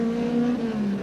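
A Ford Sierra Group A touring car races past at the 1990 Macau Guia street race, its engine a steady, loud droning note with a slight pitch drop as it goes by, heard alone for about a second.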